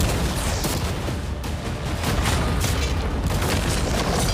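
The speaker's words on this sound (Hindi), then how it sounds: "अब हम तुम्हारी नई यॉट पर कैनन्स को शूट करने वाले हैं" Cannons firing at a new yacht, heard as dense, continuous booming blasts and rumbling bursts that stay loud and close for the whole stretch with no talk.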